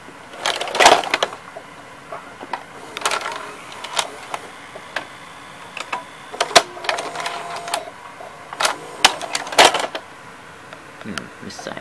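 A Mitsubishi HS-U576 VHS video recorder ejecting a tape: a series of close mechanical clicks, whirs and clunks from the tape transport, spread out in short bursts with quiet gaps.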